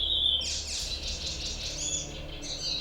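A bird chirps in the video game Assassin's Creed Chronicles China, bright high tweets repeating over a steady ambient game bed, moderately loud and without talk.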